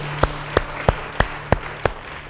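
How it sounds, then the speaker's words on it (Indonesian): Six evenly spaced sharp claps in a church service, a slow steady beat of hand claps over a low background hum, moderately near with no talking. "Yang percaya, beri tepuk tangan."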